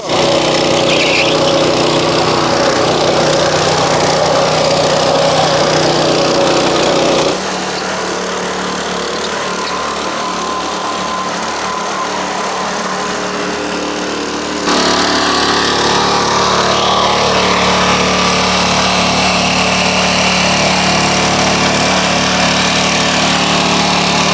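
Engine of a back rotary power tiller running steadily and loudly on its own, a continuous close mechanical drone that drops in level for a stretch midway and then returns.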